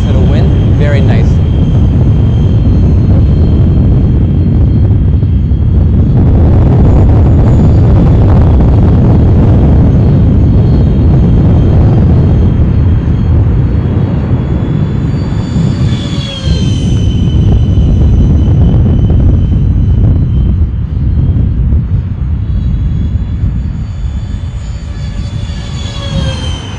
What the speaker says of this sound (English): this is going to be the takeoff of this first maiden flight of this F-14